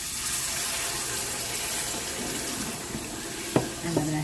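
Water running steadily from a kitchen tap into a pot for rice, a continuous hiss and splash with a couple of small clanks at the end.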